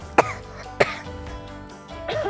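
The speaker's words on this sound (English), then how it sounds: "you should start coughing and sneezing into your elbow like this." A person coughs into an elbow twice, two sharp separate bursts about half a second apart, close and fairly loud, followed by a softer throat sound.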